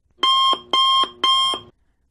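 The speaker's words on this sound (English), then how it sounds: "and the alarm clock." An alarm clock rings in three loud, evenly spaced electronic bursts, each about a third of a second long, then stops. Nothing else is heard.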